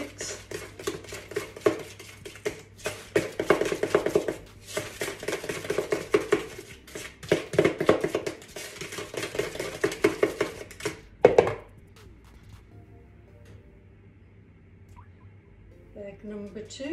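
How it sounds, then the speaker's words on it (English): Eggs being mixed into mango loaf batter in a bowl, with steady rhythmic scraping and tapping of a utensil for about eleven seconds, then a clack and near quiet. "Let's give that a little mix"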